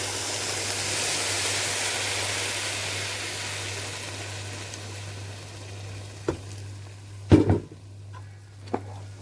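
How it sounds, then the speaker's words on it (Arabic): Boiling water poured into a pot of lentils for koshari, a steady rushing hiss with a low hum underneath, ending in a few sharp clinks and knocks of the pot and utensils. "طيب هنحط الميه المغليه بتاعتي"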